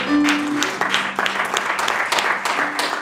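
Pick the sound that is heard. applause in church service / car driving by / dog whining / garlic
applause in church service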